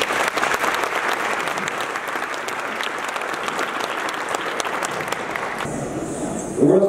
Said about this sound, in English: I think that deserves a big applause.